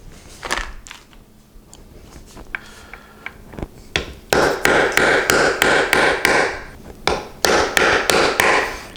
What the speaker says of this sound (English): I didn't really have to hammer that hard to get them in